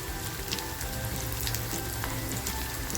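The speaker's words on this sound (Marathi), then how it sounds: "हे सुद्धा आपल्याला याच्यामध्ये छान असं फ्राय करून घ्यायचं आहे" Onion with green chilies and ginger fries in a pan as a paneer dish is cooked, giving a steady, close sizzle with soft crackles and no talk.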